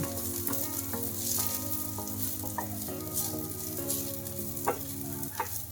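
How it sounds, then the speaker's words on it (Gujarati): Curry leaves sautéing in a little hot ghee over low heat, a soft continuous sizzle with faint crackles and a couple of light clinks near the end, heard close with a steady background hum. "લીમડાના પાનને એમાં એડ કરી દેવાના છે અને ગેસને ધીમો કરી દેવાનો છે હવે અને આમ એકાદ મિનિટ માટે સાતડવાનું છે"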